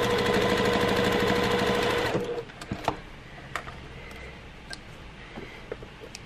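Sewing machine stitching a zippered pouch runs loud and steady with a rapid, even chatter for about two seconds, then stops, leaving faint clicks and small handling taps.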